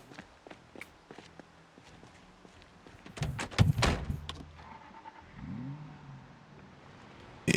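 A car in the Project Zomboid survival game, Build 42.8, with footsteps and a door clunk leading into a loud burst of engine cranking and catching, then a lower idling rumble with a sharp sound at the very end.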